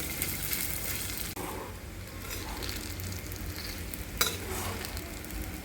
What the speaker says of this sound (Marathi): वाफवलेल्या बटाट्यामध्ये आता साबुदाणा छान परतून घ्यायचा आहे